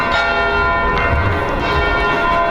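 Several church bells ring together in a dense, loud, continuous clangor, their overlapping tones sustaining steadily with no voices.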